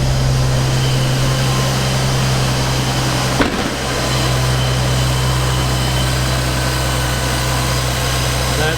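A Toyota 2JZ-GTE straight-six with a coil-on-plug conversion idles smoothly and steadily at close range, a deep even hum broken by a single brief knock partway through.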